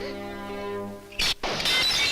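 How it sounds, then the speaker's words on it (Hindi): Glass shatters in a Bollywood Hindi film scene, a sudden loud crash with a bright, scattering burst of shards that cuts off a sustained musical tone and then trails into lingering debris. "शीशा टूट गया"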